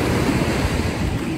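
Waves breaking and washing along a lake shore, a steady broadband rush of surf mixed with gusty wind buffeting the microphone, loud and close throughout with no voices.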